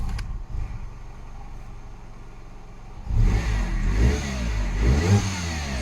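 An old, somewhat rusty car with a possible loose part or belt tension fault idles steadily, then revs up loudly with a rough, rattly roar that rises and falls several times.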